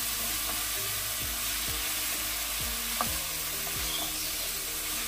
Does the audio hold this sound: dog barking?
no